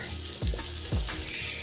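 Pigeon meat frying in a pan with spices for an Assamese recipe, a steady close sizzle broken by two scraping stirs.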